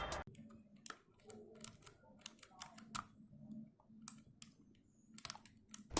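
Blue mechanical switches on a CosmicByte GK-12 Neon gaming keyboard give sharp clicks in irregular bursts of rapid taps with short pauses, crisp and close against a quiet background.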